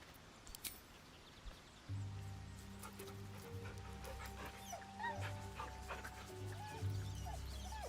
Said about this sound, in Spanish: ¿Quieres un buen perro?